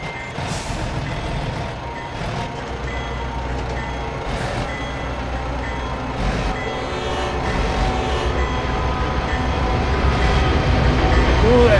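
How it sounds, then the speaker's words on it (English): In American Truck Simulator, a loud train roars past in a long, dense wash of rumble and clatter that swells gradually toward the end, with beeping and brake hiss mixed in. "Ooh, that train's loud."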